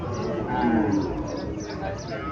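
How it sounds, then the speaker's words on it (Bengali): A native desi cow lows in a long, drawn-out moo at close range, a single steady call that fills the moment without other voices. "দেশি গাবে"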